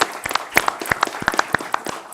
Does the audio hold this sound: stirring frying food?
no